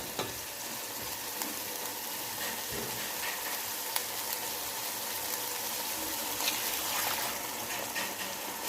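Yakhni chicken broth is poured into a hot chicken gravy for pulao, producing a steady bubbling sizzle and watery gush with faint stirring clicks, fairly quiet and close, no talking.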